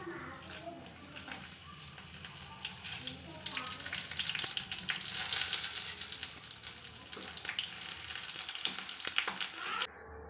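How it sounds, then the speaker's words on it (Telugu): Dried red chillies frying in hot oil in a home kitchen pan, a steady close crackle and sizzle running throughout with faint stirring scrapes, ending abruptly near the close. "ఫస్ట్ ఎండుమిరపకాయలని ఆయిల్ వేసుకున్నాక ఎండుమిరపకాయలని అయితే వేపుకోవాలి."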